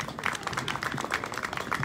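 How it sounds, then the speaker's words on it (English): Dense audience applause for a race runner-up at a community event, a steady wash of many hands clapping at once, moderately loud, with no clear voices. "Give her a round of applause."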